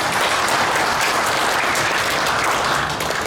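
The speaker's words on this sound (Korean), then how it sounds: "군종교우장 큰 스님께 다시 한번 큰 박수 부탁드립니다." Sustained, full applause rises from the crowd at a Buddhist forum, a continuous wash of many hands clapping together without pause or voices for just over three seconds.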